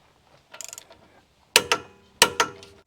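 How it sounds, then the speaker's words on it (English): A torque wrench tightens the bolts of a tractor tie-down bracket to 100 foot-pounds: a short burst of ratcheting, then two pairs of sharp, close metallic clicks with quiet gaps between them. "using a torque wrench to get it to 100 foot-pounds"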